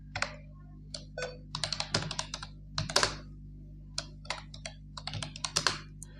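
Someone types a short entry in MS Word on a computer keyboard, close-up bursts of rapid key clicks separated by brief pauses over a steady low electrical hum, with no talking.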